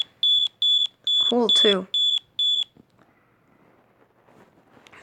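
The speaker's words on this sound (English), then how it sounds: "Yeah, the second smoke alarm." Smoke alarm sound effect giving six loud, evenly spaced high-pitched electronic beeps, with a voice speaking briefly over the middle beeps and quiet background afterward.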